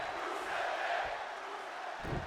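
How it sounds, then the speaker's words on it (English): In the WWE 2K20 wrestling video game, an arena crowd chants for Rusev Day, a broad, sustained roar of many voices filling the background, steady and fairly loud throughout. "As the crowd chant, Rusev Day."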